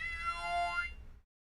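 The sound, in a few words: Theremini theremin making a cat-like meow sound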